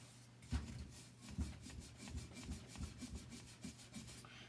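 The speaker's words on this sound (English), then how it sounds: "We got a brass bristle brush" A brass bristle brush scrubbing in quick, uneven back-and-forth strokes, a faint rasping scratch repeated several times at close range with no talking.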